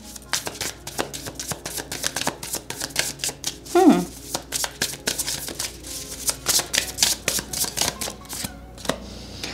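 Tarot cards being shuffled, a long series of close, rapid riffles and slaps in uneven bursts, with a brief voice sound partway through.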